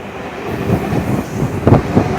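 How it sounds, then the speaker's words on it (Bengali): Dankuni local commuter train leaving Dakshineswar station, a steady rumbling ride with rattling carriage noise and a few louder clattering bumps, fairly close and continuous throughout. "এবার দক্ষিণেশ্বর স্টেশন থেকে আমরা ডানকুনি লোকাল ধরে এগিয়ে চললাম"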